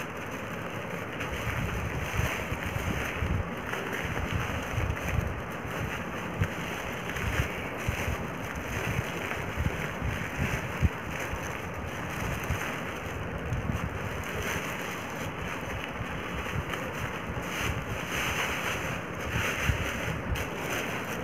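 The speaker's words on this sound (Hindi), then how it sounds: "राई को इसमें पलट दूँगी।" Fine mustard seeds are poured into a small stitched cloth pillow, a long, steady granular rushing like distant surf, close and continuous with slight fluctuations and no talk.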